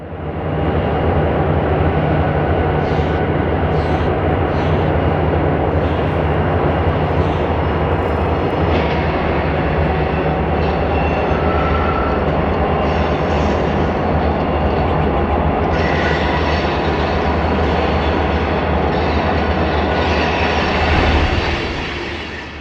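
Portland & Western freight train descending a 1% grade near the Marys River, its locomotives roaring in heavy dynamic braking with a loud, broad, continuous drone and steady rumble, no voices.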